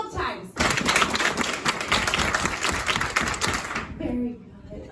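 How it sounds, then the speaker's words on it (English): An audience at a live comedy show at the Regal Beagle claps on request, producing a dense, loud burst of many hands applauding for several seconds before it trails off. "If you can hear my voice, clap 12 times."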